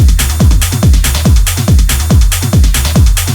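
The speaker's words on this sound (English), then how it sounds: "It's just really just a bunch of drum sounds just jumping around there" A techno drum loop of layered percussion: punchy kicks with descending booming tails repeat in a steady driving rhythm, each hit topped with crisp noisy clicks, loud and upfront.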